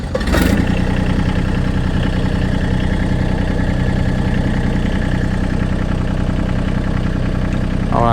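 A Massey Ferguson GC1723e compact tractor cranks and catches with a short burst, then settles into a loud, steady, close idle that runs unbroken to the end.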